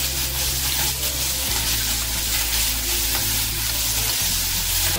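Chopped onion hisses into hot oil in a pan where peanuts were just fried, a loud continuous sizzle with crackling bursts and occasional stirring scrapes, no talk.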